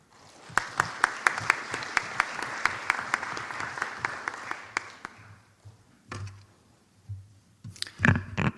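An audience gives a speaker a welcoming round of applause, sharp distinct claps swelling for about five seconds, then thinning to scattered claps and a few rustles.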